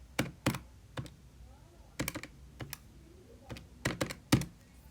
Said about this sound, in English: punch all this into your calculator